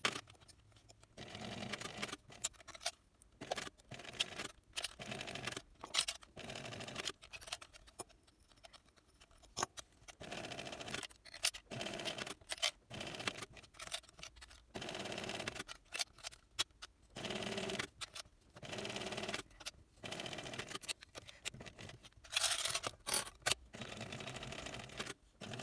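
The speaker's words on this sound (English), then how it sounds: "And then we'll top stitch the top edge." A sewing machine top-stitches the top edge of a canvas and mesh backpack in repeated short bursts of quiet mechanical stitching, broken by brief pauses, close and fairly faint.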